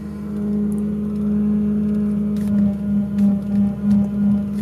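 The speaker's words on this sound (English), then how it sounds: "Power steering pump is pretty whiny." A car's power steering pump whines at engine startup: a steady, loud, high whine over the idling engine that holds for several seconds, with a few faint clicks and no talking.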